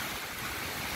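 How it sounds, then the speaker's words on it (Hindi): A strong storm wind blows with rain, making a loud, continuous roar of rushing air and water noise with no pauses and no voices. "बहुत जोर से आंधी तूफान आया है, हवा बहुत जोर का है और हवा के साथ साथ मतलब पानी भी पड़ रहा है।"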